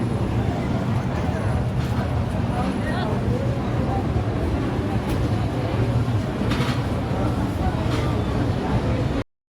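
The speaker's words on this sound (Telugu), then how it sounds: "మా ట్రైన్ అయితే వచ్చేసింది" A steady rumbling passenger train from Tirupati to Vizag runs continuously at close range, with occasional high screeches and clatter over the low drone.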